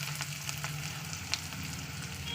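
Meat dropped into a pan of onions frying until browned, giving a steady close sizzle with a few soft stir clicks and a brief louder crackle partway through; no one talks.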